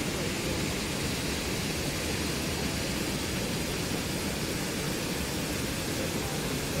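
Steady, dense roar of falling water at a waterfall, a continuous broadband rush heard up close with no breaks or other sounds.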